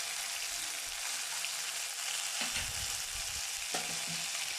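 Ground coriander, cumin and dried chili paste are mixed in a hot frying pan for Bengali doi potol, a dense continuous sizzle with a few soft stirring scrapes underneath and no talking.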